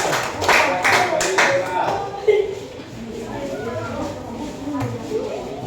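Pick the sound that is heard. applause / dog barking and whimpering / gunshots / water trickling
applause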